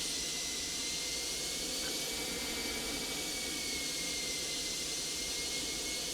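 Steady jet engine roar of an Airbus A321 (Toliss model) in the X-Plane 12 simulator, a continuous loud broadband rumble and hiss with a faint high whine, holding even throughout as thrust comes back, with no talk.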